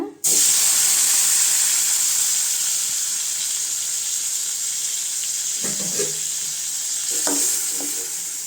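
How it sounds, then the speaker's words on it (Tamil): Tomatoes sizzle and fry steadily in a pan for mint chutney, a continuous close hiss with a few stirring clinks near the end. "அதே சட்டியில் தக்காளி சேர்த்துக்கலாங்க"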